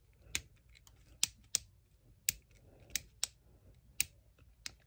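An action figure's ankle joint clicks as it is twisted, about ten sharp, close, quiet clicks at irregular intervals against near silence.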